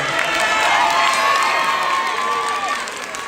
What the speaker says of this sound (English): y'all clap it up for the juniors